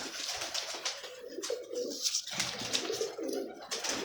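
Khushk nali pigeons cooing softly nearby in repeated low throaty phrases, with light chirps and rustling among them and no talking.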